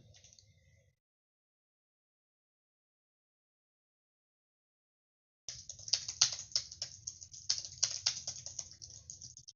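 Quick typing on a computer keyboard while posting to Twitter, a brief patter of keys, then silence for several seconds before a steady run of close, fast key clicks resumes.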